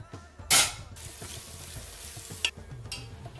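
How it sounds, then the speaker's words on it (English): Bacon and onions frying in a pot over a fire, with a soft steady sizzle and a few scraping knocks as a stick stirs them, including one sharp scrape near the start. "Bacon and onions on magic fire. Mysterious sour fruit from time traveler. Stir with stick."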